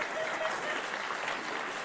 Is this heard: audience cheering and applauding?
yes